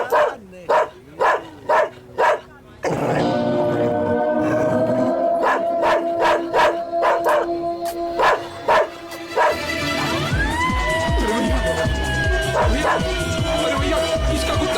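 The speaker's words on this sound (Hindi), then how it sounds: "अरे भैया, कुत्ते को रोको भैया।" A dog barks in a series of sharp, loud, evenly spaced yaps, then howls over a sustained music bed, with more barks breaking through before the music changes.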